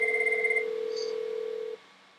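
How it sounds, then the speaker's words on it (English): A desk phone rings once on a forwarded call in an office phone-system test, a steady electronic ring tone sounding for nearly two seconds before cutting off, close and clear with no talking. "And we see that James Ford, phone is ringing."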